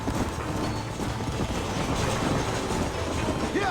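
A train in Red Dead Redemption rumbles steadily past with a continuous rolling roar and faint clattering wheels, loud and dense throughout.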